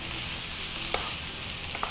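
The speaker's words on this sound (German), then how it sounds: "So, das brutzelt." Vegan dish ingredients fry in a pan with a continuous crackling sizzle, close and steady, broken by a couple of faint clinks from stirring.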